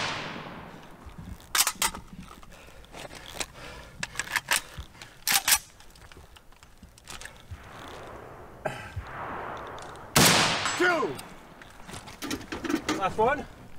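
Rifle shots ring out in woodland, fired from a bipod at targets, sharp cracks spaced irregularly with short bursts close together, and people talk between them.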